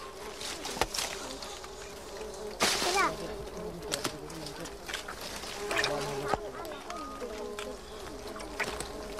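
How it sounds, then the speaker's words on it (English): Stingless bees buzzing close by in a steady drone at a dead log filled with honey, with sharp knocks and clatter breaking in at intervals. "Luckily, these bees don't sting."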